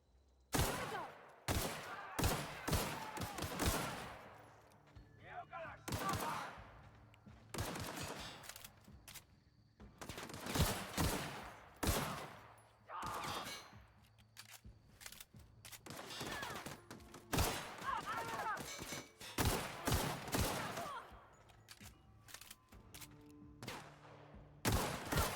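Gunfire in the video game The Outer Worlds comes in repeated loud bursts of shots, some single cracks and some rapid volleys, separated by brief quieter gaps across the whole stretch.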